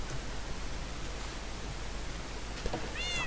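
A cat meows in the Minecraft video game, a short mewing call near the end over a steady background hiss.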